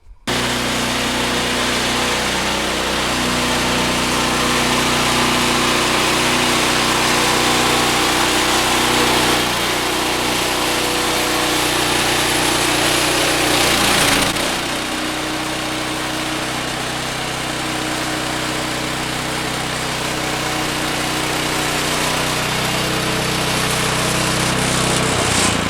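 A loud engine drones steadily as a Woodland Mills HM126 portable sawmill cuts through cedar, the pitch dipping briefly midway as the load changes, continuous and close.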